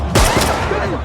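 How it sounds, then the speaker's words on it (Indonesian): A sharp burst of gunfire rings out as special forces shoot fleeing cartel henchmen. One loud, close crack comes early and then decays into a short rumbling tail. "sementara anak buah yang mencoba kabur berhasil ditembak oleh pasukan Jordan"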